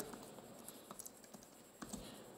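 Faint, sparse keystrokes on a computer keyboard: a handful of soft, scattered clicks over a couple of seconds in a quiet room, with no talking.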